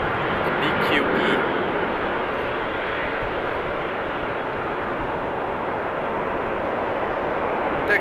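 Boeing 777 taxiing quickly at Amsterdam Schiphol Airport, heard as a loud, steady, broad engine roar that fills the whole stretch, with voices faintly underneath.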